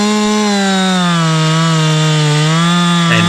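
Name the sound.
chainsaw cutting through a log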